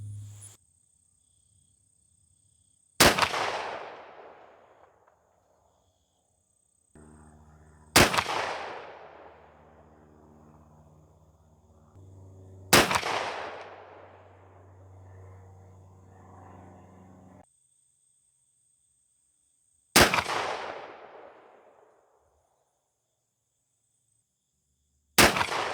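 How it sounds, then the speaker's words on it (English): Cheddite 12-gauge 2-3/4 inch 1 oz slugs fire from a Remington 870 pump shotgun: five loud, sharp shots spaced several seconds apart, each followed by a fading echoing tail, with quiet gaps between. "So let's take our shots and see what we get."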